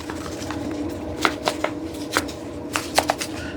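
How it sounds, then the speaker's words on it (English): Spice rub of mustard and onion powder being shaken in a container, giving a series of sharp rattling shakes in irregular bursts, close and fairly loud with no talk. "I'm going to put it all inside of here, give it a good shake to be able to mix it up"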